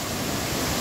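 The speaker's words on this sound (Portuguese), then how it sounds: "os respingos da água da cachoeira" A brief, steady rush of falling water from the Cachoeira Monte Sião waterfall, a constant hiss without voices.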